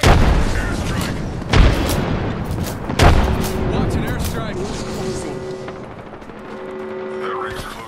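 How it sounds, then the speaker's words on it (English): A thrown frag grenade goes off in the Apex Legends battle royale with two sharp booming blasts, a few gunshots and rumbling action, and voices talk over the game noise. "Frag out. Frag out."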